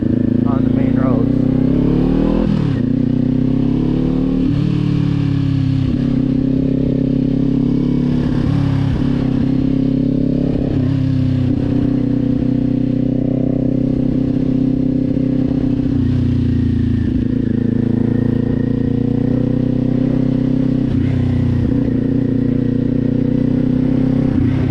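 Kawasaki Z400 exhaust while riding through a neighborhood on a chilly day: a loud, close, steady engine drone rising and falling through repeated revs and gear shifts, with brief throttle swells and clatter.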